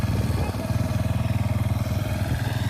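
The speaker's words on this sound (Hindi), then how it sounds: "तो ये छोटा ट्रैक्टर है, सर के हिसाब से तो छोटा है, पर ये छोटे एरियाज़ को बहाने में इसका यूज़ किया जाता" A small tractor's engine runs steadily on village farmland, a close, loud, rapid chugging throb that holds an even rhythm throughout with no voices over it.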